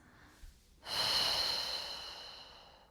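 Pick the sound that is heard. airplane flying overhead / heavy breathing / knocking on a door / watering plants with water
heavy breathing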